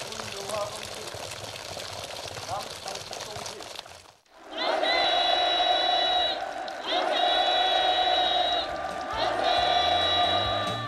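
An audience at a housing handover ceremony in a farm village applauds loudly and steadily, with continuous massed clapping and cheering after a stretch of narration.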